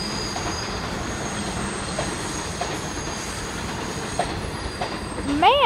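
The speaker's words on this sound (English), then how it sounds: "There's a D train. A D train. Rounding that bend there." A New York City subway D train rounds a curve near a rail yard, a steady loud rumble of wheels on track swelling into sharp, rising metallic squeals near the end.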